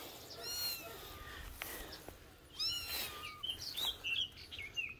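A domestic cat meows several times in an outdoor setting, with rising and falling calls alternating with chirping birds in the background; no one talks.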